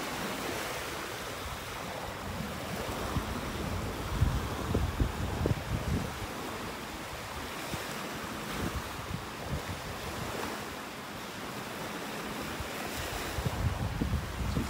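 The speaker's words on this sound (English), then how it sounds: "to get windy here when we come around the corner" Steady wind buffeting the microphone with rushing surf underneath on a beach in North Naples, Florida, a continuous roar with occasional louder gusts and no voices.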